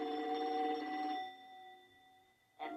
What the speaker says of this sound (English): Cookie was saying when the telephone rang.